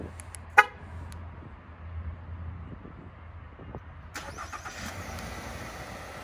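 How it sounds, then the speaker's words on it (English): A 2020 Nissan Altima is started remotely: a short horn toot, a pause of quiet idle noise, then the engine cranks and catches into a low running hum, heard close. "And remote start."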